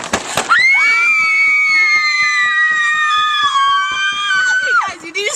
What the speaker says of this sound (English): you guys keep screaming until like 2 seconds after that